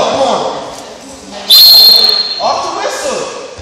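A referee's whistle at a wrestling match gives one sharp, loud blast partway through, set against shouting and talk from the gym around it.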